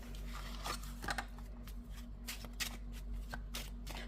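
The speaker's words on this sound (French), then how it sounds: "Allez, on va tirer une petite carte." Playing cards shuffled and drawn during a budgeting session, a steady run of quick papery riffles and flicks up close over a constant low hum, with no voices.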